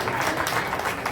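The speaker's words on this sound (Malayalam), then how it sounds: "വലിയൊരു കയ്യടിയോടുകൂടി കൃഷ്ണകുമാരേട്ടനെ നമുക്ക് വേദിയിലേക്ക് സ്വാഗതം ചെയ്യാം." A crowd breaks into brief, dense applause for a sponsor being welcomed onto a stage, a full, even roar of clapping lasting about a second.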